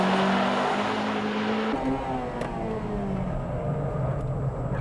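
Honda Civic Type R EP3 and Integra Type R DC2 racing hard on a track in 2002, a loud sustained engine drone that shifts pitch abruptly, with no talk.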